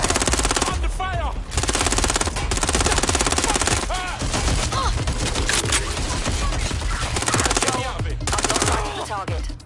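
Rapid automatic gunfire in the Watch Dogs Legion video game hammers loudly and continuously, with bursts overlapping and brief dips between volleys, and voices come through under the shooting.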